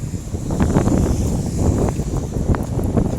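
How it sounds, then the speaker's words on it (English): Strong outdoor wind buffets a bare microphone on a city walk, a loud, gusty low roar with uneven bursts and faint rustling behind it. "So the wind is quite strong today, so hopefully the audio turns out."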